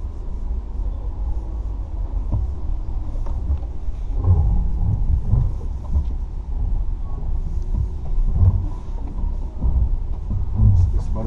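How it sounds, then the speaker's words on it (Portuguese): An Amarok V6 on a steep side slope, two wheels spinning freely while traction control locks them, gives a low, steady mechanical rumble that swells and eases in uneven surges, with someone talking over it. "Esse barulho que faz. Você tem duas rodas girando em falso, né? Ele vai travar essas duas rodas"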